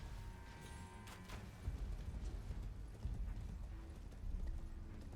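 Horse galloping in Elden Ring: Shadow of the Erdtree, its rhythmic hoofbeats steady and fairly close throughout, mixed with low game ambience and a few brief high tones.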